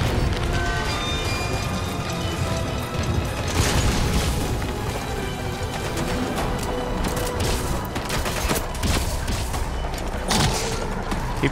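Gunfire in Metal Gear Solid V: The Phantom Pain, dense bursts of shots and booms running throughout amid busy game noise, fairly loud, no talking.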